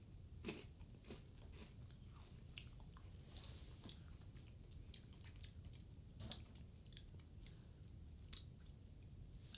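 Freeze-dried Neapolitan astronaut ice cream being bitten and chewed up close, with a string of quiet, dry crunches and crumbly snaps spread unevenly through the clip.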